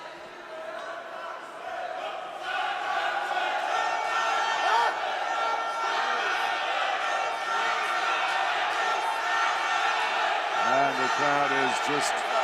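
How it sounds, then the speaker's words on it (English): A Georgian crowd at a EuroArm 2017 arm wrestling semifinal roars in a dense, continuous wall of cheering and shouting that fills the room, with a voice speaking over it near the end. "it is the Georgian crowd behind Samusha, just filling the room with noise."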